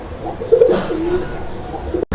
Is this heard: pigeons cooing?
yes